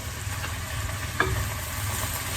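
Butter sizzles and fries steadily in a pan of garlic chicken bites over lowered heat, a constant close crackle with a single brief clink partway through and a low hum underneath.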